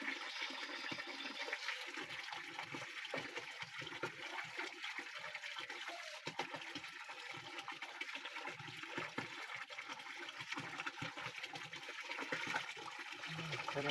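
Cold spring water pours steadily from a bamboo spout, a continuous close splashing gush that never pauses.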